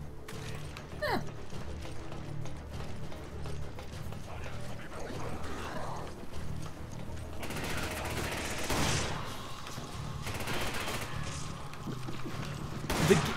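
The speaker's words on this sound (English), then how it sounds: "Let's try some of these nitrogen rounds out." Nitrogen rounds fire in a video game shooter, with dense bursts of rapid gunfire and mechanical clatter over a continuous background of game noise, loudest in the second half.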